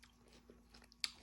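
Someone quietly bites and chews watermelon up close, soft wet crunches with one sharper bite near the end in an otherwise quiet room.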